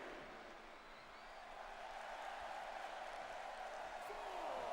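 A crowd at a wrestling tournament event cheering and applauding in a steady, swelling wash of noise, fairly distant and building slightly, with a commentator talking over it.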